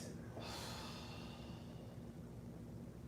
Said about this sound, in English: inhale, hold the breath, exhale